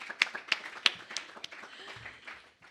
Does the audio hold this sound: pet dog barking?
no